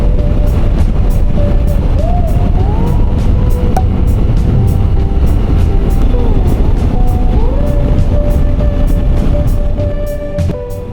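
A motorcycle riding a winding rainforest road on the Gillies Range near Cairns, a loud constant engine drone with heavy wind rush, brief pitch glides as it shifts, easing slightly at the end.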